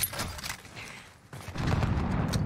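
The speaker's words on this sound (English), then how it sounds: "more explosions" Explosions and gunfire sound in a Call of Duty Warzone match, a dense rumbling barrage that dips briefly and then swells into a louder, sustained roar of blasts.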